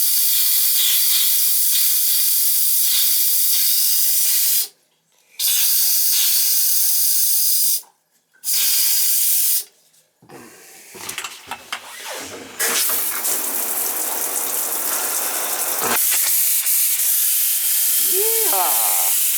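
Compressed air hissing loudly through cottage plumbing as water is blown out of the lines, in strong bursts cut by short pauses, then a rougher sputtering spray and a long steady hiss.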